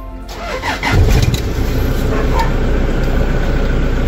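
A 2006 Toyota Innova's engine cranks briefly and catches, then settles into a steady close idle that continues to the end.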